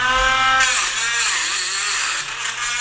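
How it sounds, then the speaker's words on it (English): A power tool slices through a custom metal bracket plate for mounting bucket seats in a MINI, a loud, steady high-pitched whine with a continuous grinding buzz that holds for a few seconds before dipping slightly. "that's what Range is cutting off right now, this custom piece"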